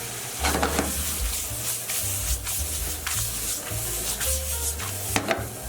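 Chicken pad thai noodles with spring onions are tossed and stir-fried in a hot pan, a steady sizzle broken by repeated scraping stirs, close and alone with a faint low hum beneath.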